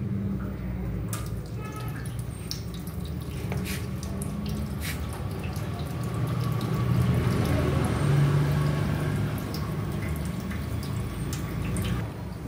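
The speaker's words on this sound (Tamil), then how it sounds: "சும்மா தண்ணி ஊத்திட்டு கொஞ்சம் சாச்சிட்டா போதும்" Water pours steadily into the radiator of a TVS Apache RR 310 motorcycle during a coolant change, a continuous close splashing and trickling with dripping that swells slightly midway and runs for about twelve seconds.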